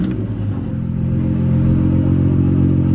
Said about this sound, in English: So that's how you start a manual car